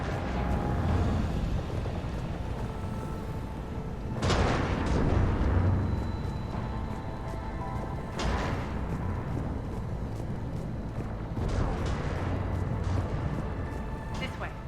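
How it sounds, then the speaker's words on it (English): Heavy booming cannon blasts in the video game Mass Effect 3 recur every few seconds, each swelling into a long rumbling roar over constant battle noise and a speaking voice. "Those cannons have to be stopped."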